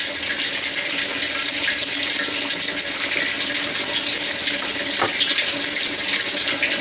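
A washing machine with a repaired agitator fills with water in a loud, continuous rushing stream that holds steady from start to end, with no talking.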